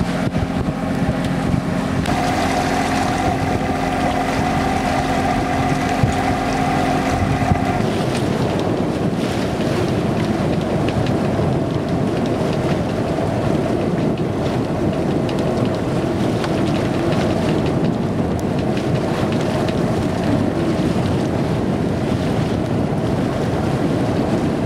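The sailboat Havoc motors at sea under its engine, a steady hum beneath constant wind buffeting and the wash of waves, with a tonal drone in the first several seconds that then fades into the broadband rush.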